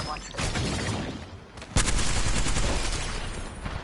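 Gunfire in the video game Apex Legends, with a burst of shots early on, then a heavy blast followed by rapid repeated shots, loud and close.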